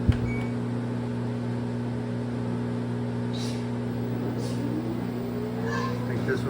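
An LG washing machine in diagnostic mode runs a slow spin, giving a steady low motor hum with a constant drone throughout and a few faint higher whirs and clicks near the end.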